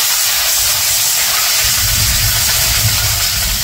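Ginger-garlic paste sizzling hard in a hot pan with tengra fish, a loud, dense, continuous hiss close up with no voices.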